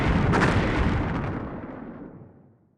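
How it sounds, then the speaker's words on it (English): Explosions set off beneath hover tanks in the BattleTech tabletop game, heard as a single loud, rumbling blast effect that fades out over a few seconds with no talk. "So now they set off explosions under their hover tanks."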